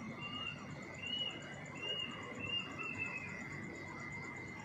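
Birds call at six in the early morning outdoors. Short, high chirps repeat several times at a moderate distance over a steady bed of insect buzzing, with no talking.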